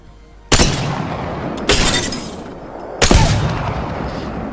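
Three sharp precision rifle shots in the video game Apex Legends, spaced about a second and a half apart, each a loud crack with a short decaying tail.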